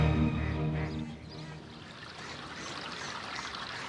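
A garden waterfall pours into a 3-acre ornamental lake, completed in 1828, with a steady broad rush of falling water rising as a tonal, music-like hum fades out at the start.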